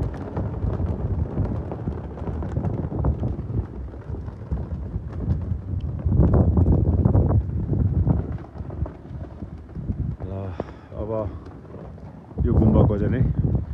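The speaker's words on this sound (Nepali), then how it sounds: "भयङ्कर हावा चलाइछ।" Strong gusty wind blows outdoors on a high ridge in Solukhumbu, buffeting the microphone in surging roars, with people talking intermittently beneath it.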